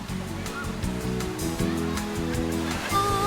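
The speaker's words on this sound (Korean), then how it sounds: "물소리 너무 좋아요." A mountain stream in Pocheon Valley near Gayasan slides over broad flat rocks, giving a steady, close rushing wash of water that holds evenly throughout, with some background activity mixed in.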